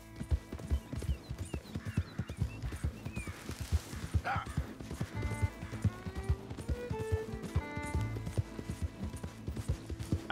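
A horse gallops in Red Dead Redemption 2 with steady, rapid hoofbeats throughout and a brief whinny partway through, close and continuous, along with faint background game sounds.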